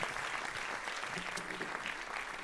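An audience at a Démos youth orchestra concert in Roissy Pays de France claps in a steady, dense burst for the performers, a full room's applause lasting a couple of seconds.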